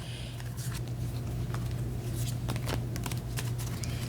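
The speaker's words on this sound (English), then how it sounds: "I'm going to shuffle a little bit more and get one more card for you" A deck of tarot cards being shuffled up close, a steady soft riffling and sliding patter of cards running for several seconds over a low background hum, with no talking.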